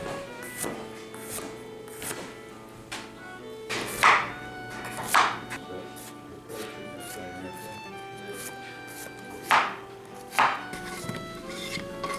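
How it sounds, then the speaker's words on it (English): Thin slicing of three yellow squash and an onion, knife strikes landing in an irregular rhythm with a few sharper cuts standing out, close and moderate under low room noise, with no talking. "So we're just going to use 3 yellow squash and this onion. We'll just slice them really thin"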